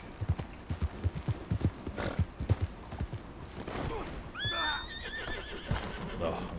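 A horse in a video game whinnies with a rising, wavering call while hooves clip-clop in a steady rhythm beneath, with game noise and some talk around it.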